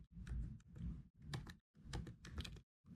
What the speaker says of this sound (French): J'ai mon clavier qui a les touches qui s'enlèvent en réalité.